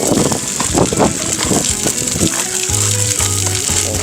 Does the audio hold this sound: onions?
yes